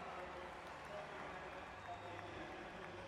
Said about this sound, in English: In front of a very noisy home crowd.